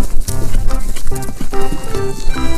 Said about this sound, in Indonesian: Wow, yang ini seekor kuda.